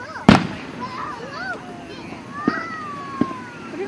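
Fourth of July fireworks in Bera, Kentucky: a sharp nearby bang followed by fainter distant pops, with children and adults chattering and calling throughout.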